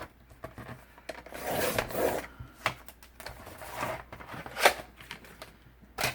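A blade cuts decorative paper for a composition notebook cover at close range, a run of soft scraping and rubbing strokes with brief sharper swipes, quiet and uneven.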